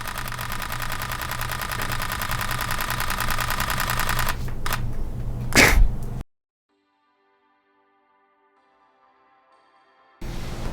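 A Sony A6400 mirrorless camera fires an 11-frames-per-second shutter burst, a fast, even rattle of clicks lasting about six seconds, then near silence before noise returns.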